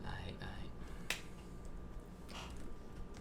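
A hand smacks a wristwatch once, a sharp close slap standing out from quiet background noise, with a second softer tap shortly after.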